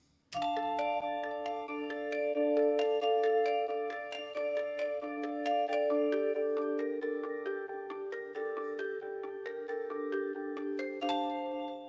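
Bright, bell-like plucked guitar notes repeat in a steady loop, with a slight wobble and processed, chiming tone throughout, no voices.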